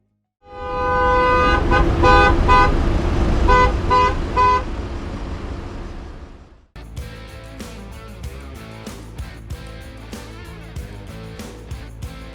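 A car horn blares in a long continuous blast in a traffic queue at the Montenegro border, then cuts off, followed by quieter road and traffic noise with scattered clicks.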